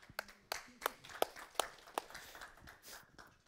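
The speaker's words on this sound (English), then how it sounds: "Give him a round of applause." A small meetup audience giving an attendee sparse applause, a handful of distinct sharp claps spaced apart, fairly faint, over a quiet room with soft shuffling.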